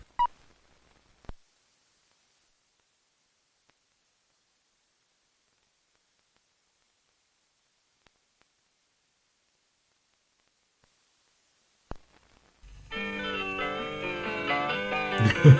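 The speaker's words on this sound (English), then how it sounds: "I love the intro music they have for McGraw-Hill Films" Archival McGraw-Hill Films intro music, heavily distorted and noisy, bursts in loud after a long stretch of near silence broken only by a few faint clicks.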